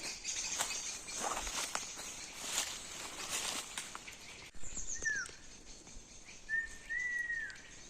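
Jays in a spring forest chasing another bird, with rustling and scuffling through leaves first, then a few sharp, harsh calls ringing out at moderate distance in the quieter second half.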